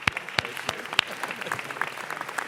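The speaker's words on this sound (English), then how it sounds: "Let's give Ariel another round of applause" Scattered applause from an audience at a Norooz celebration in Los Angeles City Hall, a handful of distinct sharp claps standing out over a faint, thin patter, fairly quiet and brief.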